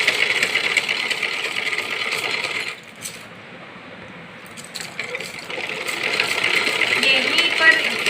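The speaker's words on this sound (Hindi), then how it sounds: "इसको उठाया हमने और मशीन के पास लेके आए। इसकी हम सिलाई करेंगे।" A sewing machine stitching a kachli piece, with steady broadband running that stops briefly mid-clip and then resumes, close and fairly loud, with a voice talking over it.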